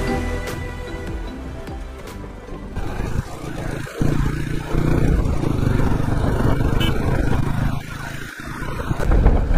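Motorcycle riding along a Ladakh road, its engine a steady mid-level drone mixed with wind buffeting and occasional clatter, growing louder toward the end.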